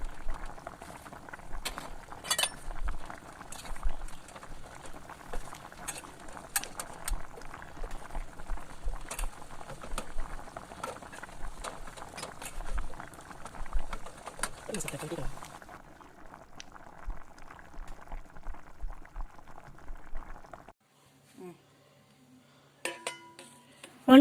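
Butter melting and sizzling in a pan at home for a chocolate cake, a soft steady crackle with a few metallic clinks from utensils, under a voiceover, before going quiet.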